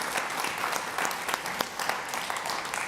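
Sustained audience applause at a developer summit as a presenter is welcomed to the stage, dense steady clapping from a full room with scattered sharper claps, no talk over it.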